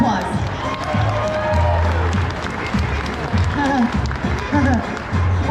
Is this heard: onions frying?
no